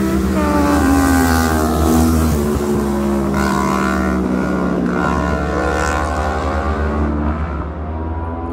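Several motorcycles race at speed along a highway, their engines producing a loud, continuous harmonic drone that wavers in pitch as they rev and pass, steady throughout with a slight fade at the end.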